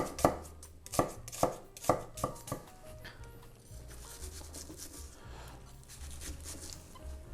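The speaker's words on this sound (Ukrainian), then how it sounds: "І наріжемо її дрібним" Knife chopping an onion into small cubes on a board, a run of crisp, evenly spaced close cuts at the start, then softer rapid scraping and chopping.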